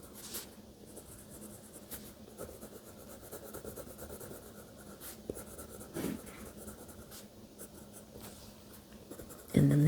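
A colored pencil layers color onto paper in soft, continuous close scratching strokes, quiet and steady, with a brief louder knock at the very end.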